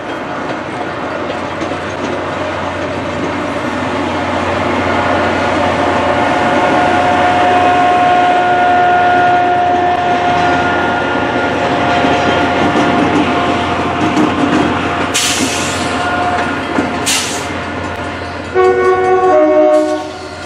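Steam locomotive Pere Marquette 1225 pulling the North Pole Express rolls past with a loud, steady rumble and a sustained horn blast mid-pass, followed by clanking railcars and brief hissing bursts near the end.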